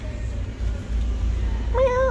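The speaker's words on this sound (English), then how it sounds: "Hello, black and white kitty." A black and white cat in a PetSmart store gives a single clear meow near the end, preceded by low store hum and a faint earlier mew.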